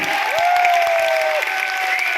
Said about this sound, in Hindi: तालियां जोरदार गौरव सर के लिए एक बार